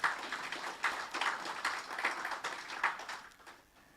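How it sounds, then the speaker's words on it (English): Audience applause at a college industry business breakfast, a moderate wash of clapping hands with a few rhythmic claps standing out, tapering off at the end. "Let's give them a round of applause."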